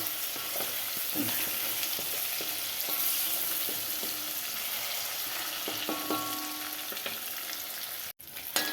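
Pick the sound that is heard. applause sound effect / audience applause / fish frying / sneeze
fish frying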